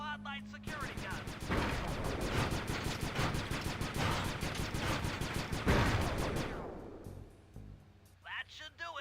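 Spotlight security gun turrets in Sly 2 fire a long, rapid, evenly spaced burst of loud shots that stops abruptly, followed by brief game sounds.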